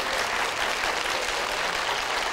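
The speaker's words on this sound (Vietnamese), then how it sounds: "Tất cả mọi người vỗ tay" A Vietnamese TV show studio audience applauds steadily, dense continuous clapping filling the room at an even level with no break, no voices standing out.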